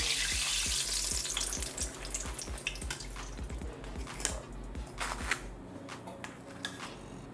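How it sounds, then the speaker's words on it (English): Eggplant baiganee fritters deep-fry in hot oil with a steady sizzling crackle, overlaid by irregular close clicks and taps as pieces are moved around the pan, fading somewhat toward the end. "I'm gonna continue frying the rest"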